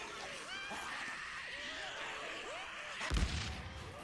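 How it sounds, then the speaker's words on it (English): A pipe bomb goes off in the zombie survival game Days Gone: a single deep blast bursts out about three seconds in, rising over a steady din of game ambience and a running horde, and fades with a low rumble. "Pipe bomb time."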